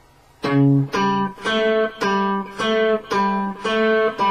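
A plucked guitar phrase from a Bach piece of about eight evenly paced notes, each ringing with bright harmonics, played clearly and alone at moderate volume.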